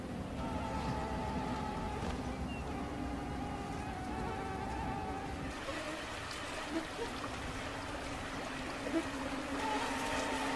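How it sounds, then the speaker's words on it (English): A thin, persistent insect whine from buzzing mosquitoes hangs over a low background hum, continuous with a few faint ticks. "Mosquitoes."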